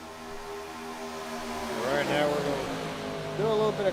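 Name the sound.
ARCA race cars racing at Talladega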